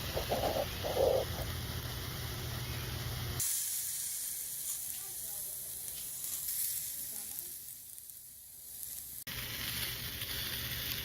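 Burgers sizzle in a frying pan on a COBB stainless steel charcoal BBQ, a soft steady crackle that drops away in the middle before returning, fairly quiet.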